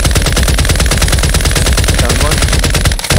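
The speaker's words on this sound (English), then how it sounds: "there's a lot of enemy, another team shooting us" Rapid machine-gun fire rattles continuously in a Modern Warfare 2 long-range match, loud dense bursts filling the whole moment with barely a break.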